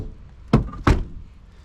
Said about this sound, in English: Back door does kind of open.